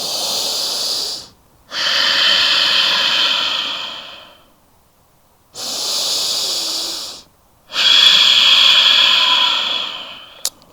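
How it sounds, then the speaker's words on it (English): Deep, slow breaths during a yoga pose, three long airy inhale-exhale cycles close to the mic with clear pauses between them, hissing and steady, no speech. "2 more breaths here."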